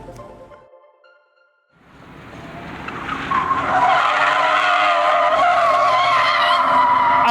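A skid car's tires squeal in a long, loud skid on a racing school skid pad, starting after a brief quiet engine rev and swelling into a sustained screech.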